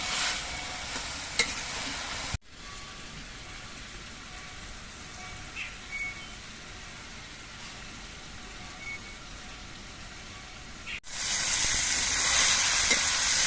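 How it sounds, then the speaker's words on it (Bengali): Chopped vegetables fry in a pan while their released water boils off, a steady hiss and sizzle with occasional stirring, cut by two abrupt edits and rising louder near the end. "এবার জালটা একটু বাড়িয়ে দিয়ে সবজির জলগুলো সব ফুটিয়ে ফেলতে হবে আর সবজিগুলো একটু ভেজে নিতে হবে"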